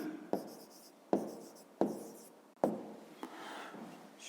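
A pen or pencil writes figures on paper for a fifth-grade maths exercise, producing four distinct scratchy strokes with short pauses between them, then lighter scribbling, close and quiet.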